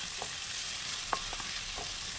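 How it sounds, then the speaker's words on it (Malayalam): Kerala-style spicy chicken kondattam being stir-fried in a pan: a steady hiss of frying oil with a few soft scrapes and clicks of a spatula turning the pieces, close and even. "ഇതുപോലെ തിരിച്ച് മറിച്ചൊക്കെ ഇട്ട് നന്നായിട്ട് മൂപ്പിച്ചെടുക്കാം"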